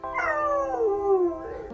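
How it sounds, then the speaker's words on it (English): A pet dog howls along in a long, wavering, singing tone that slides gradually downward, then rises briefly again at the end. The howl is clear and close over a quiet background. "And a pup who likes to sing."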